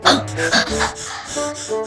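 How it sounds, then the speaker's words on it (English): Fast, heavy breathing, rapid huffing and puffing in quick bursts, close and loud. "why are you huffing and puffing like this?"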